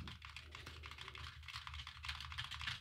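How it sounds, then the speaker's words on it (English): Typing with one hand on a computer keyboard, recorded through an Audio-Technica AT2040 dynamic podcast microphone: a continuous patter of quick, close keystrokes at a steady, slightly uneven rhythm, with no talking. "So I'm going to do one hand on the keyboard."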